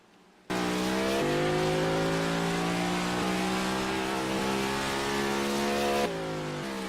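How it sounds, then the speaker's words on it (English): Race cars in a Carvana Cup Series qualifying session scream high in the rev range. A loud, sustained engine whine comes in abruptly, then holds and climbs with brief dips at gear changes, heard close and alone. "you could hear these cars up in the rev range"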